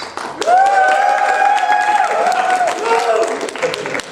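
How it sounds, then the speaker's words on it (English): Audience applause and cheering at an anime convention game show, loud whoops and tonal shouts over clapping, close and energetic, swelling and then easing off. "You've got a cheering section in the audience."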